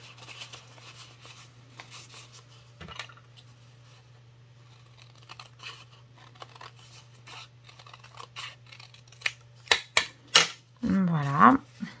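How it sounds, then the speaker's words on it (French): Scissors cut a round shape out of paper printed on the back, giving a run of small snips and crisp cutting sounds close by over a low steady hum, growing louder with rustling paper near the end. "Alors on va essayer de découper là-dedans un rond."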